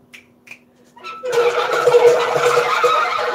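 A few light knocks give way to a wheeled rolling work bench being pushed, its casters setting up a loud, continuous rumbling scrape that carries on to the end.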